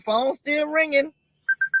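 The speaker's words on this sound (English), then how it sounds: "The phone's still ringing." A telephone gives three short, evenly spaced electronic beeps, faint and clean, right after a person's brief speech.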